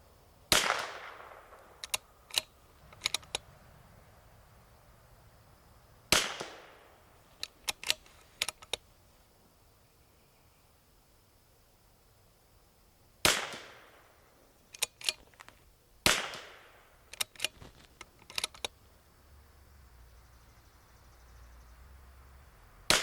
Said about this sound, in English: we will record 5 shots on the chronograph